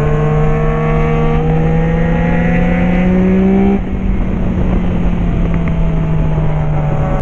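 A Yamaha Tracer motorcycle revs loud and close while riding, its engine pitch climbing through gears, then easing to a steady drone after a shift.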